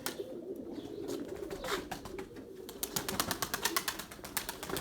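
Domestic pigeons kept in a loft coo and shuffle close by, a low steady murmuring layered with a run of sharp rhythmic clicks or taps toward the end.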